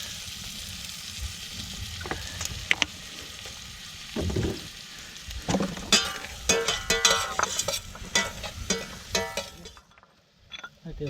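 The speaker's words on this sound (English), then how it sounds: "I'm just adding now my my prawn stock." Prawn stock poured into a hot pan over wild prawns and sea spaghetti at a Pembrokeshire beach cookout: a loud burst of sizzling and frying, then scraping and clinking stirs that come in bursts over outdoor background noise.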